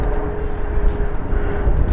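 An H-King Yak 11 1450mm PNP warbird RC model plane pulling into a stall turn gives off a steady, fairly loud motor drone with a faint whine, heard outdoors and uninterrupted.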